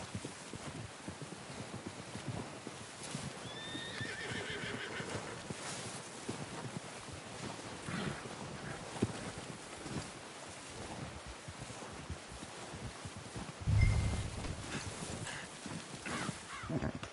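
Hooves clip-clop at a steady walking pace from a horse in a video game, set against wind and ambient outdoor noise, with a brief louder thump near the end and no talk.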